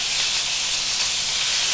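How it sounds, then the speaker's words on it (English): Unseasoned lamb steaks sizzle in hot rapeseed oil in a frying pan, a steady close hiss of crackling fat with no speech. "place in our unseasoned lamb steaks. Now listen to that, starting to sizzle immediately"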